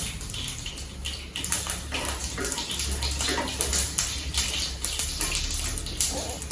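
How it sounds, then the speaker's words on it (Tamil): Mustard seeds splutter and crackle in hot oil in a pan, giving a dense, steady hiss with sharp pops scattered through it, heard up close. "இப்போ நான் எண்ணெய் ஊற்றிருக்கேன் இல்லையா, இதில் கடுகு நல்லா பொரியட்டும்"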